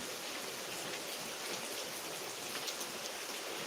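Rain falls steadily in Elappara, a constant, fairly soft hiss of drops on surfaces that holds an even level throughout, with no voices.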